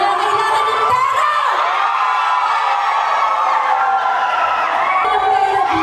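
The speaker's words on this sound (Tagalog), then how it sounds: "Gusto ko yung pinakamalakas na sigaw kung sino yung nangangailangan ng pera!" A crowd of participants at a summer corporate team building event shout and cheer together in a loud, continuous roar with no let-up.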